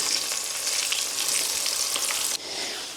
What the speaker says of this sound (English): Let me drop these in the fryer as well.